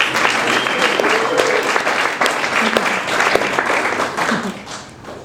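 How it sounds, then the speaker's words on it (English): Loud, dense applause from a reading-event audience at Tibet House in New York City, sustained clapping that fades out toward the end. "a round of applause for Matt Proctor"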